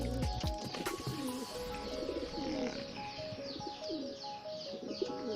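Pigeons coo repeatedly in a loft, soft rolling throaty calls overlapping at close range, with faint chirps and a busy bird-filled background.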